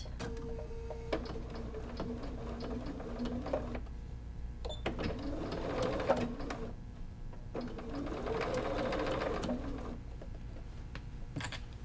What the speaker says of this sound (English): Cover the binding slightly and try to top stitch the sew line.